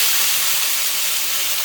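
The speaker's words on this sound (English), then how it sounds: "See that nice sizzle?" Baby back ribs sizzle on the grate of an insulated smoker as they are mopped, a steady, loud hiss and crackle of steam and spattering juices that holds without a break for the whole short span.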